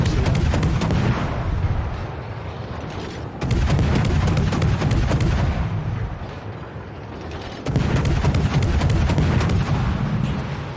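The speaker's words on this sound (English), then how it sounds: "One of these rounds is knocking out that turret" Bunker guns in a video game firing rounds at a turret, with heavy booming bursts of sustained gunfire that come in three loud waves, each fading a little before the next volley.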